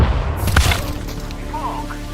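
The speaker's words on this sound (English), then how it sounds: "I threw in the flashbang." Flashbang grenade detonating in Counter-Strike 2, a sharp crack-like burst followed by a lingering high ringing that fades over about two seconds, with in-game background sound beneath.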